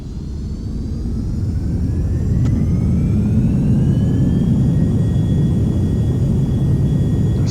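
Carenado Premier business jet engines spooling up for takeoff in a flight simulator, a loud steady roar with a rising whine that grows and holds throughout, no voices.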